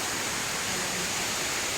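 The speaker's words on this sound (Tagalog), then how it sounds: "May ilog guys." A river flows steadily at Infanta, Quezon, a broad constant rush of water like a stream or small waterfall, fairly loud and unbroken for the whole stretch with no voices.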